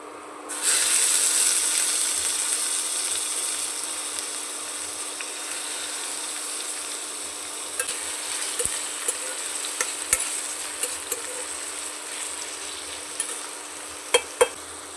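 Tomatoes frying in a pan with browned onions for semiya (vermicelli) upma give a steady, close sizzle, with occasional sharp clicks of a utensil stirring against the pan.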